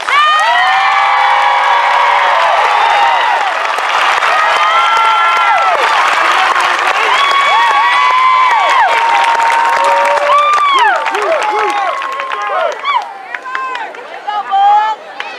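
A crowd at a high school graduation ceremony claps steadily for several seconds, mixed with loud cheers, whoops and shouting that taper off toward the end.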